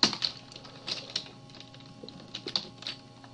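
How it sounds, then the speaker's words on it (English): Close, quick typing on a computer keyboard gives irregular bursts of crisp key clicks with short pauses, with no talking. "I can just type CSS inside here"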